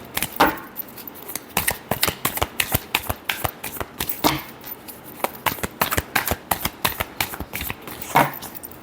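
Tarot cards shuffled by hand in a rapid run of crisp riffling flicks and soft slaps, close and fairly loud, in bursts with brief pauses and no talk.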